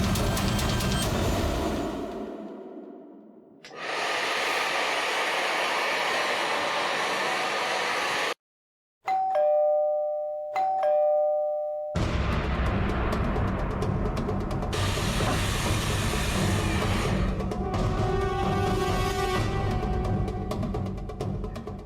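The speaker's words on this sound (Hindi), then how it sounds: "एसी और हेयर ड्रायर की आवाज के ऊपर भी बेल की आवाज साफ सुनाई दे रही है" A doorbell rings inside a home over the steady roar of a hair dryer and an air conditioner, its tone faint beneath a broad hiss that cuts out briefly and then returns.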